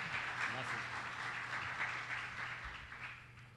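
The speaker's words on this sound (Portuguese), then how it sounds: "recibamos con un aplauso a, eh, al señor Bonilla." Applause from a conference audience welcoming the president of Telebras to the stage, a steady broadband patter of clapping with faint voices mixed in, fading slightly toward the end.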